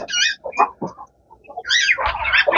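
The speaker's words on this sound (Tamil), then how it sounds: "அந்த சேவல் குஞ்சு" Young rooster and other chickens on a farm, a run of clucks and squawky crows rising and falling at close range, ending in a louder burst of overlapping calls.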